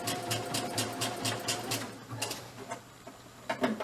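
A sewing machine stitches a fabric mask in a quick, even run of rhythmic clatter, pauses briefly, then restarts with a few faint taps, all fairly quiet.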